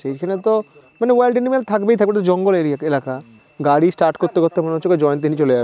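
Crickets keep up a thin, steady, high chirring drone deep in the Buxa forest while someone talks over them at close range.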